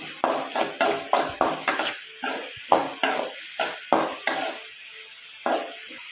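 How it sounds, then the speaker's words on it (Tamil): Finely chopped onions frying in a pan and stirred repeatedly, giving a regular run of close scraping, clattering strokes about every half second over a constant high sizzle. "நான் 3 வெங்காயத்தை சின்ன சின்னதாக சாப் பண்ணி வச்சுருக்கேன். அதையும் போட்டு நல்லா வறுத்துக்கலாம்."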